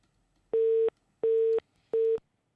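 Three evenly spaced busy-signal beeps on a telephone line after a call to a morning radio phone-in show drops, each a steady mid-pitched tone of about half a second, clear and alone.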